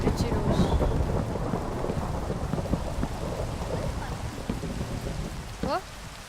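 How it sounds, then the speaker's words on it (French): A Minecraft thunderstorm with a lightning strike rumbles loudly over steady rain, a dense continuous roar that fades gradually, with a short sharp tonal blip near the end. "Il y a un éclair qui a frappé là"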